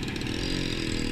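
A 2019 Yamaha Sniper 150 motorcycle engine revs in a brief steady burst, loud and close with a buzzy mid-pitched drone.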